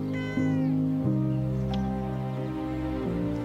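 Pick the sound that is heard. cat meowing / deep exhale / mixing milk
cat meowing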